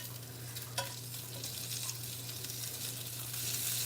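Food searing in a hot pan while leftovers are being cooked at home, a steady soft sizzle and hiss with a faint clink early on, fairly quiet and with no talking.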